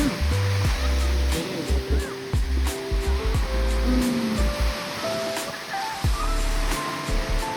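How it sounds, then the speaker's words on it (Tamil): Ocean waves crash and surge on a beach near Auroville, Puducherry, a loud continuous roar of surf with people talking over it. "இவ்வளோ அலையில அது தண்ணி ஃபுல்லா மேல வருதுடா"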